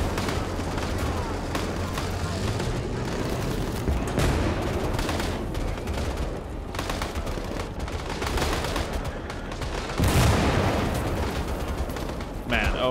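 Constant gunfire and artillery pound a hill in Gates of Hell, a dense, unbroken roar of rifle and machine-gun fire with heavy booms throughout, loud and close, voices faintly under the din.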